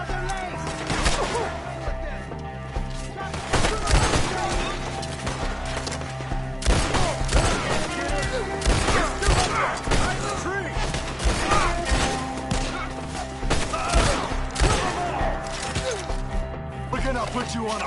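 Rapid gunfire bursts and impacts from a Gears of War 5 firefight crackle steadily throughout, mixed with crashes and thuds, with shouting voices over the combat.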